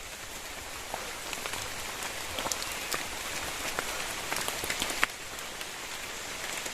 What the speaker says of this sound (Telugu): కానీ పైన వర్షం